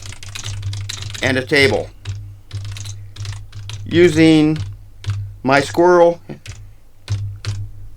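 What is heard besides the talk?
typing on a computer keyboard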